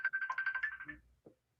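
A phone ringtone plays close by during an online discussion night, a quick, bright, warbling melodic tone that runs for about a second and then cuts off, followed by a brief soft click and silence.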